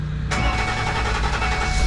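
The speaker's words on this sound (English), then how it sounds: "Let's turn the car back on." A Ford E450 box truck engine with an intake air temperature sensor fault cranks briefly and catches, then settles into a loud, steady close idle with no talking.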